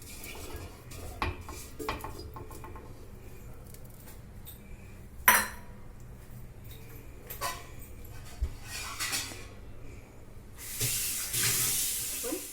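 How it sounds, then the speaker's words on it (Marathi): Water is poured into a pot after scattered clinks and knocks of kitchen utensils, and a close, rushing gush swells near the end. "त्यानंतर पाणी ओतून घेणार आहोत जेवढं चिक आहे तेवढंच पाणी घ्यायचं आपल्याला"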